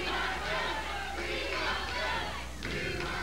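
A packed wrestling arena crowd at the Bagley Center in Portland roars and yells continuously at a 1995 Championship Wrestling USA show, a dense, loud wall of cheering voices that holds throughout.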